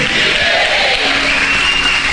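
A church congregation applauding and cheering loudly in a dense, steady wash of clapping and crowd noise, close and continuous throughout with no pauses.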